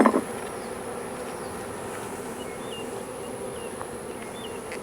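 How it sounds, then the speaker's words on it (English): Honey bees buzzing around open frames of a hive with a missing queen, a steady dense hum from many insects close by, with a brief handling knock at the start. "Lots of bees here."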